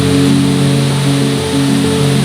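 Small waterfalls and cascades of the Río Mundo tumble into natural pools along a mountain hiking trail, making a loud, constant rushing hiss of water that fills the scene without pause, with no talking.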